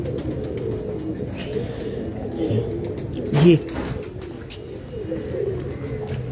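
Pair-kept pigeons of a Wazirabad breeder cooing in a loft, a low repeated coo among soft bird chatter, with someone speaking briefly nearby.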